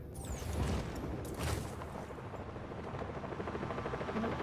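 A helicopter in the video game Just Cause 4 thrums with a steady rotor chop amid game combat noise, with a few crashing bursts early on, all fairly loud and continuous.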